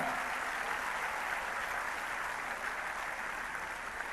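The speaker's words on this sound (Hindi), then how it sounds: "तो एक बार इनके लिए भी जोरदार तालियां" A large audience gives a dense, continuous round of applause for Special Olympics medal winners, steady and loud throughout with no voices over it.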